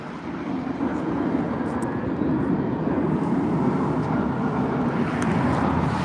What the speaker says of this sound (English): Hear the sounds of those 767 engines.